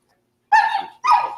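A service dog at a veterans' service dog graduation ceremony gives two sharp, close barks in quick succession.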